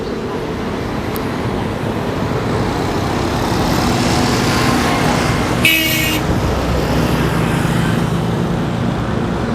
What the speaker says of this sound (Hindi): तो ट्रैफिक का शोर वगैरह देख सकते हैं आप।